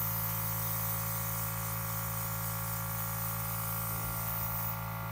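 A Graftobian Walk Around airbrush makeup system sprays out onto a rag, giving a steady, continuous hiss that stays close and even throughout, with no pauses and no talking.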